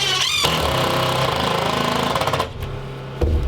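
A power driver sinks a fastener into a floor joist on a cabin deck top in Alaska, a loud buzzing whir with a rattling burst that stops abruptly, then a short second spurt.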